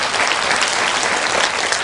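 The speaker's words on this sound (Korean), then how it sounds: "여러분 뜨거운 박수로 맞이하시기 바랍니다" Warm, dense applause from a crowd at a patriotic lecture gathering, welcoming a speaker to the stage; loud, continuous clapping close by, filling the short moment without speech.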